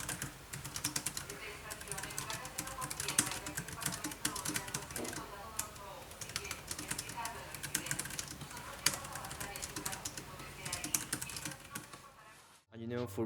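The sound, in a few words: typing on a plastic knockoff Magic Keyboard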